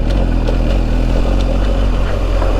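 An adventure motorcycle in enduro mode on a group ride in the sunny Spanish mountains, its engine rumbling loud and close in a steady, continuous throb with no pauses or talking.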